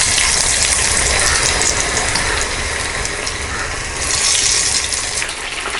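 Mushrooms frying over a high flame, a dense, continuous sizzling hiss, loud and close, with slight surges as the pan contents shift and no talking.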